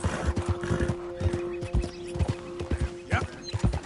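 Horse hooves clip-clop at a steady gait in Red Dead Redemption 2, close and fairly loud, with a steady tonal hum and a brief whinny-like sound near the end.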